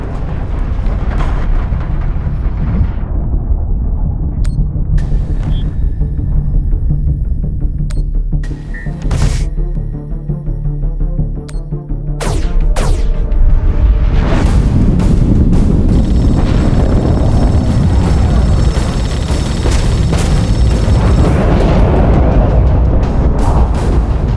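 Torpedoes firing and exploding in The Expanse video game: a long, loud rumbling roar with deep booming blasts, a few sharp bursts midway, then a swelling wall of heavy low-end noise.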